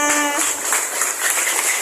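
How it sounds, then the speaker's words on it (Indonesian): Elementary school students at an anti-bullying workshop give a short burst of dense, bright applause that fills the room, with a brief voice at the very start. "Tepuk tangan untuk teman-teman kita"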